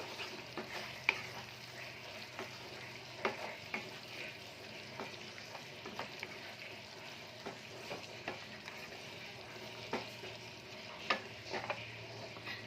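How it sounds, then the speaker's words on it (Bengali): Fried pointed gourd (potol) being stirred with garam masala in a pan of oil, a soft steady sizzle punctuated by repeated spatula scrapes and clicks at irregular intervals, no speech. "এবার আমি এতে একটু গরম মশলা অ্যাড করব। একটু নাড়িয়ে নেব।"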